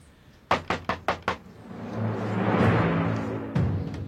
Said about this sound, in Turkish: Aç kapıyı Akça bacı.